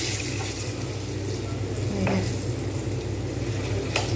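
Palm fritters (tal pitha) sizzle steadily in hot oil over a low flame, with occasional scrapes and taps of a spoon turning them one by one; no one talks.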